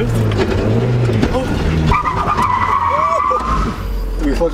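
Mazda Miata with a welded differential drifting, its tires skidding in a sustained squeal over engine noise, with people talking in the car.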